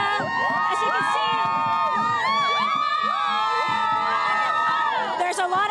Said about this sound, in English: there's a lot of cheering, a lot of celebration on a day they've been waiting for decades